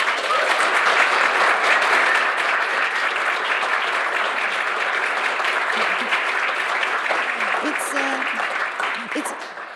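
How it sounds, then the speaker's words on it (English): An audience at a programming talk applauds with sustained dense clapping that slowly tapers toward the end. "Guys, let's give a round of applause to Felienne."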